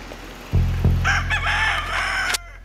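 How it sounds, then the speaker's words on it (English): A rooster among a flock of chickens crows loudly and close by in one long, strained cock-a-doodle-doo, preceded by a couple of soft thumps. "got a whole mess of chickens."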